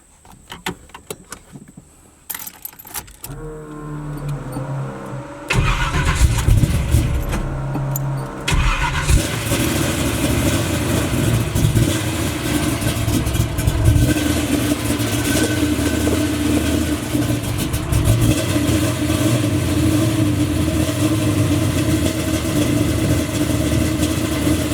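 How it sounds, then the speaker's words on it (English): A Chevy box car engine cranks briefly on a cold start, catches and roars to life, then settles into a steady, loud idle that continues without pause. "Cold start. Haven't crunked this car up any today"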